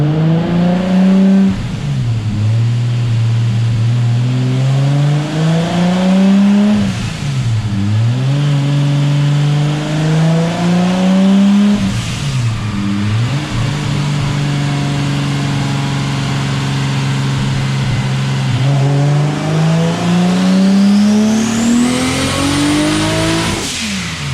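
Single-turbo Toyota Supra engine revving hard on a dyno, rising through the rev range in several long pulls and dropping back between them, loud and close, with a high turbo whine climbing near the end.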